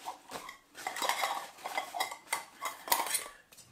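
Metal camping cook kit pieces, a kettle and pans, clinking and clanking together as they are nested and packed down for a music festival, a close, irregular series of bright rattles and knocks with no talk.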